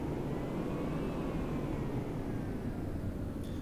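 Steady, loud jet roar from a carrier landing in the Strike Fighters 2: Vietnam flight simulator, a continuous rushing engine wash with no pauses as the plane comes aboard the deck.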